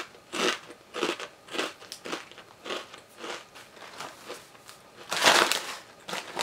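Seasoned bagel-chip-like snack crisps with a marinara-flavoured coating being crunched and chewed up close, a steady series of dry, brittle bites and grinding chews, with one louder crunch near the end and no talking.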